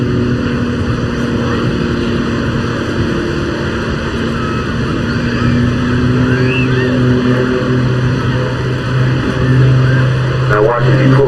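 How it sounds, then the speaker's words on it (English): Jet Pitts aerobatic plane powered by ATM Lynx jet turbines at an airshow, a steady loud turbine roar spooling up with a continuous whine, heard from a distance with a commentator talking over it. "he'll just spool up those ATM Lynx Jet turbines"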